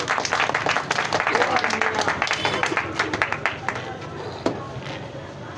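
A crowd at a gathering applauds and claps in dense, sustained bursts alongside cheering voices, fading somewhat toward the end with a few sharp isolated claps.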